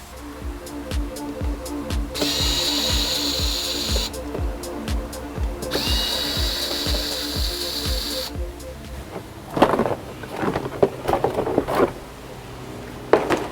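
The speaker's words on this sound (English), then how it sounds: "I'm going to remove it because it's only like 4 or 5 little clips that hold it on and a couple of screws" A power tool drives out screws on a car's splash shield in repeated whirring bursts, loud and close, followed by clanks and handling noises near the end.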